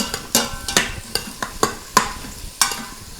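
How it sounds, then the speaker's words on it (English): Hoppin' John being stirred in an Instant Pot: about ten sharp spoon clacks and scrapes against the pot, spaced irregularly and close, with a faint sizzle beneath. "Stir those up."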